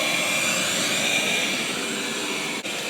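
A Roborock S7 robot vacuum mopping over thin carpet gives a loud, steady, close motor whine with a fan rush, broken only by a brief dip near the end; no voices.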